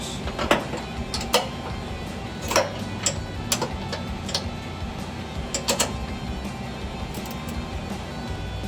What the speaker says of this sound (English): Then take your wrench.